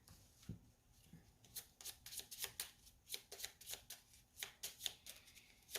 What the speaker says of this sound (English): And we shuffle his deck.